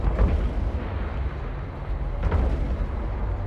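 Ship weapons firing in the space game Eve Online, a steady rumbling barrage of booming shots with no talk over it.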